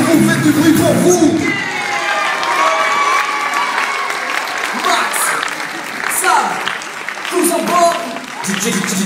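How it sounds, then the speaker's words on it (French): A concert crowd at the Vibra'mômes children's music festival in Flers claps and cheers in a dense, sustained burst while a performer talks over the noise. "Et vous pouvez vous applaudir, vous faites du bruit pour vous."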